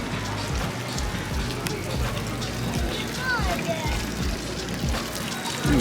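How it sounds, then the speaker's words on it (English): Water splashes and trickles steadily from a public drinking fountain in a town square in Prizren, Kosovo, with a voice talking and faint street ambience around it. "I'm told that the water fountain is actually drinkable."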